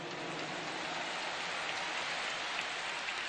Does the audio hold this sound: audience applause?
yes